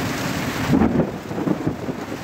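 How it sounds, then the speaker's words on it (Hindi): Heavy village rain pours steadily while thunder rolls overhead in deep, swelling rumbles. No voices are heard. "हाँ देखो आसमान भी तेज से गरज रहा है बारिश की वजह से"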